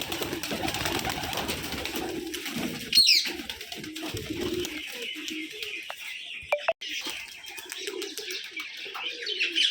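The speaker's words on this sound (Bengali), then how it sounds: "সবগুলো গিরিবাজ কবুতর।" Giribaz pigeons at a Rajshahi pigeon farm coo and chatter in a busy flock, with scattered chirps, clucks and brief flutters nearby over a steady background hum.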